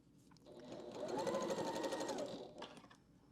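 A sewing machine stitching quilt fabric with cream thread, running for about two seconds in a smooth, fast whirring burst that rises and fades, close and fairly quiet.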